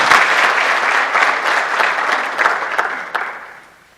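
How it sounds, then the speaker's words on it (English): The audience at a high school class awards ceremony gives the graduating students a round of applause, a full, close burst of clapping that runs steadily and then fades out near the end. "Let's give them a round of applause."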